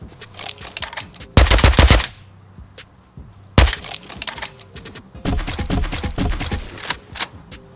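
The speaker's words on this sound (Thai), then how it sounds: "ผมได้ยินเสียงคนยิงกันแถวๆบ้านผมนะครับ" Rapid bursts of automatic gunfire crackle in several loud volleys, separated by quieter stretches of scattered shots and background noise, in the video game Rust.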